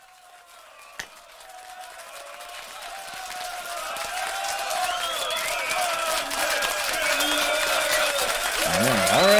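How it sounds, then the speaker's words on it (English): A studio audience breaks into applause and cheering that swells steadily from faint to loud, with a voice speaking near the end. "Already applause."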